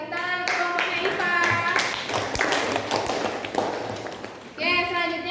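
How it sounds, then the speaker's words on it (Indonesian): A classroom group of students claps for a student group after a presentation, a short burst of hand clapping and tapping mixed with voices talking nearby. "tepuk tangan untuk kelompoknya Iva"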